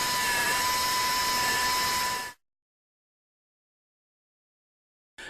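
A dental implant drill boring into jaw bone gives off a steady, close, high-pitched whine that cuts off abruptly, then briefly starts again after a silence.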